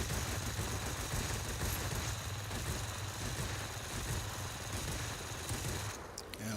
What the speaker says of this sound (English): I finally overheated my cannons